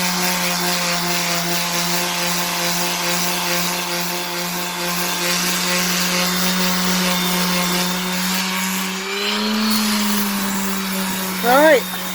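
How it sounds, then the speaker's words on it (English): A steady, loud whine of a power tool scouring rust off a steel rail plate, holding a constant pitch with a slight shift near the end and a brief squeak; no talking over it. "now we're scouring the rail plate. This is getting the rest of the rust off the plate"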